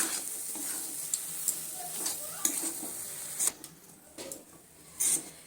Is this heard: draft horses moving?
no